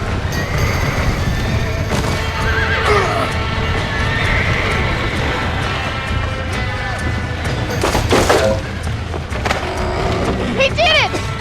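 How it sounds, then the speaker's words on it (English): Horses whinny sharply a couple of times over a chaotic bed of pounding hooves and crashing noise, with voices shouting in the mix, in the video game Red Dead Redemption. "Los caballos!"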